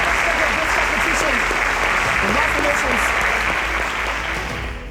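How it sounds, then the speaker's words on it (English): An audience claps steadily and loudly at a televised school quiz competition, the applause dense and continuous throughout, tapering slightly at the end, with a few faint voices mixed in. "Another round of applause for him."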